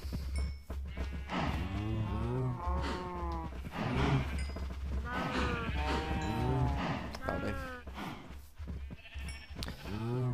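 Cows mooing in the Voltz modded Minecraft game, several long drawn-out moos overlapping one after another at close range over a steady low hum, with no talk.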